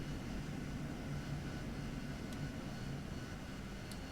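An AV-8B Harrier jet in DCS World drones with a low, even engine roar that holds steady throughout, heard alone with no voices.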